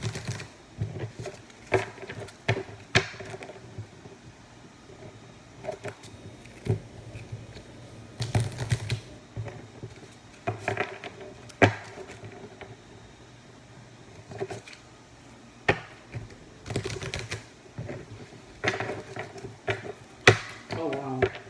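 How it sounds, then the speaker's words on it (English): Small Chakra Wisdom Oracle cards are shuffled by hand, producing irregular bursts of quick papery riffles and taps separated by short pauses, close and fairly quiet. "So we're going to shuffle these and we're going to see what comes out."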